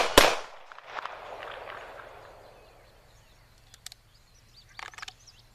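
A SIG P6 pistol fires a single sharp, close shot fired from an outside-the-waistband holster, followed by a long decaying echo, with faint bird calls and small knocks afterward; a second shot is not evident.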